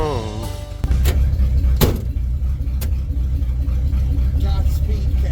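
A 1967 Ford Galaxie, rebuilt from a parts car, drives off with a deep, steady engine rumble. A sharp thump comes just before the engine note settles in, and a few short knocks punctuate the drive.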